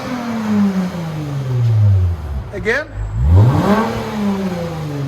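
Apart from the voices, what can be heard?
2018 Lexus GS 350 V6 muffler-delete exhaust revving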